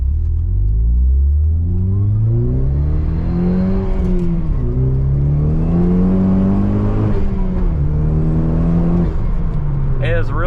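Pontiac Solstice GXP turbo engine pulling under light throttle from inside the cabin, a loud, steady drone whose pitch climbs and drops through gear changes, with a brief whoosh near the end.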